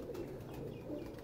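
An old teddy pigeon coos softly in a low, rolling murmur close by, the sound faint and continuous.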